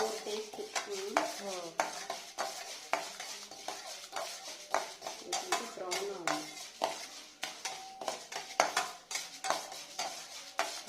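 Urad dal frying in oil for tomato chutney is stirred briskly in a pan, with rapid clinks and scrapes of a spoon against metal over a continuous sizzle.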